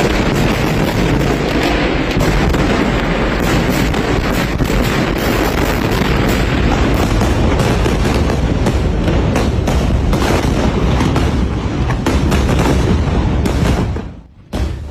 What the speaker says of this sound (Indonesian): Ledakan dan dentuman nyaring mengguncang area sekitar Rumah Sakit Indonesia